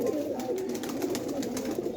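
Freshly caught male pigeons coo steadily and softly, a continuous low burbling chorus held close by with no talk over it.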